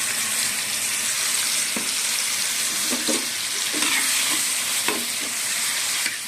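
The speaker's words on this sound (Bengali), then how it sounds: "গরম হয়ে গেছে, আমি মাছটা ঢেলে দেবো, চিংড়ি মাছটা" Prawns frying in hot oil in a pan, a constant close hiss broken by several scraping spatula strokes as they are turned.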